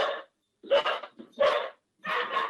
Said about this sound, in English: somebody's dog just activated my dogs